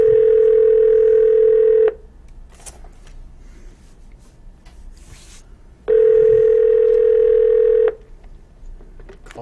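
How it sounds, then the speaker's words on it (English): Ringback tone on an outgoing phone call: two long, loud, steady tones about two seconds each, separated by a quiet gap of roughly four seconds, with no voices over them. "It's ringing."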